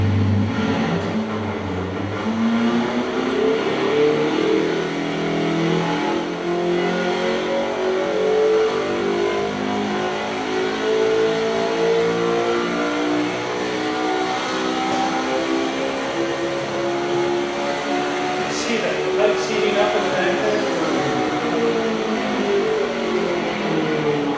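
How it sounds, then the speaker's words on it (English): A GM flat-plane engine runs on a dyno in an engine test room, revving up and down repeatedly in long rising and falling sweeps, loud and close throughout. "this is the flat plane engine in our engine dyno room"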